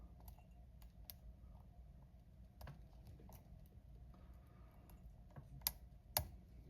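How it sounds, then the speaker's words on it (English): Pins click one at a time inside an Ace 40mm laminated steel padlock as it is picked: faint, sharp ticks scattered over a low steady hum, with two crisper clicks near the end and no talk. "Okay, we got a click on 4. It sounds like we may have got multiple clicks."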